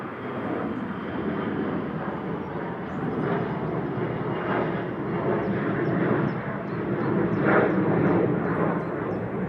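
A Loganair airliner departing Manchester Airport for Aberdeen, its engine noise a steady, fairly distant broadband roar that swells gently and holds across the whole stretch, with no voices over it.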